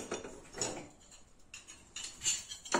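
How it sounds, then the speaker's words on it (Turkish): Metal stove burner caps clatter and clink as they are set down one after another into a wide container, several sharp, close knocks and scrapes with quiet pauses between them. "Öncelikle ocak gözlerimizi geniş bir kaba alıyoruz."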